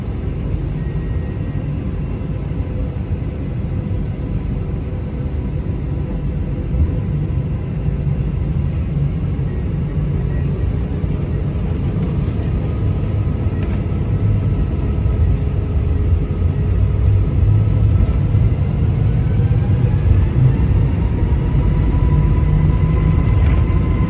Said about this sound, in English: please enjoy this unedited takeoff footage from runway 34 right at Sydney